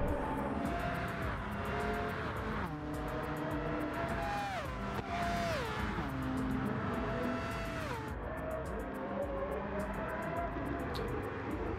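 Race cars on a track in a GTO championship series race, engines roaring and rising and falling in pitch as they shift gears and pass close by, continuous and loud.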